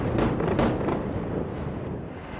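Deep, rumbling blasts from airstrikes over Beirut, Lebanon, heard from afar at night as a heavy roll of successive booms early on that fades into a low, lingering rumble.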